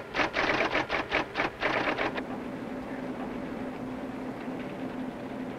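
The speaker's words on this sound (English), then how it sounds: "The cards are read by a high-speed reader" A high-speed punched card reader runs computer cards from 1968, a rapid burst of rhythmic mechanical clatter followed by a steady motor hum, no one speaking.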